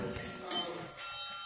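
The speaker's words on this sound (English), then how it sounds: "Actually ring the chime." A chime rings on a 2001 Dover hydraulic elevator at a group home in North Carolina, one bright bell-like tone standing out clearly against low background murmur and then fading over about a second.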